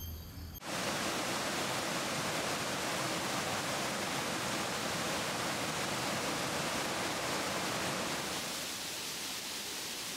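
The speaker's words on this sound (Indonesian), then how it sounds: "Bisikan air mengalir seakan mengajak untuk beranjak" Water rushing at Curug Buluh waterfall in Gumai Ulu, Indonesia, a dense continuous roar that starts abruptly and holds steady, easing slightly toward the end, with no voices.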